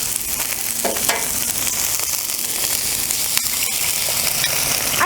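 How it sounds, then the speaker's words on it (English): An egg cracked onto a hot flat-top griddle for fried rice sizzles and spits loudly and steadily. Sharp crackles and scraping clicks break in now and then, and no one speaks. "All right, so now it's time to throw on the egg."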